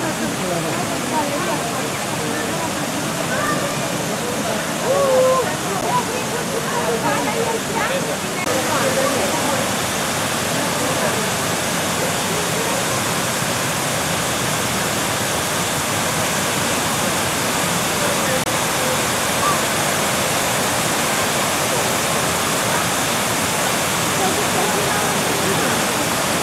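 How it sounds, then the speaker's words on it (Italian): Water jets of the Hundred Fountains at Villa d'Este in Tivoli, a row of spouts on each level, make a loud, steady, dense rush of splashing water that continues unbroken throughout. "Il viale delle 100 fontane, perché sono 100 cannelli di acqua a ogni livello"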